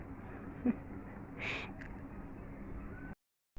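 A pigeon coos softly in a low, hooting murmur, with one clearer swell over a quiet background hum and no one speaking.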